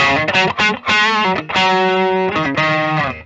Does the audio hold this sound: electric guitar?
yes